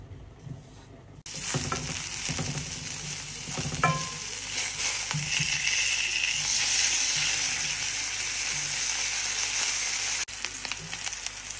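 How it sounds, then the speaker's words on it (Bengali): Hot water poured into a hot pan for a fish curry gravy sets off loud, steady sizzling and bubbling. The sizzle starts abruptly after a quieter moment and continues up close with occasional clinks, and no one talks. "এখন দিয়ে দিলাম গরম জল ঝোলের জন্য।"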